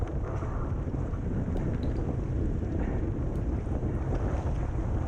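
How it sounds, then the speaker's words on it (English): Strong wind blowing hard across an outdoor course on Randall's Island during a fixed-gear bike race, a loud steady rumble of gusts buffeting the microphone throughout. "It's just a really windy day."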